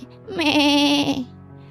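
A human voice imitates a goat's bleat with a single sustained, wavering nasal cry lasting about a second, loud and close, done mockingly toward a rival singer during a singing contest.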